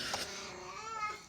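A house cat lets out a long, drawn-out wailing meow, a single sustained cry that rises and wavers, heard fairly near with no speech over it.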